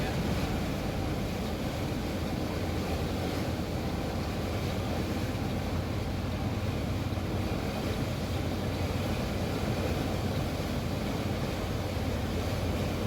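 Boat engine running steadily the whole time, a continuous low rumble mixed with wind and water noise, with faint voices in the background.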